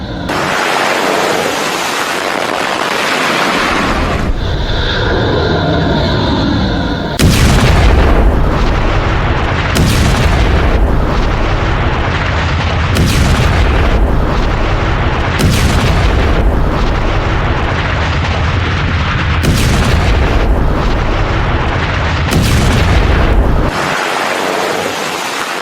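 Heavy booms and blasts from missile strikes in the US-Iran conflict, a series of loud, deep impacts roughly every two to three seconds over a continuous roar, with a brief quieter rumbling stretch early on.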